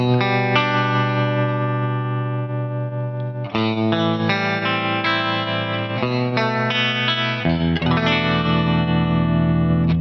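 A Tap-A-Whirl V4 pedal set to a sine waveform at full depth sweeps a loud, sustained overdriven electric guitar through a deep phasing effect, with chords changing every few seconds.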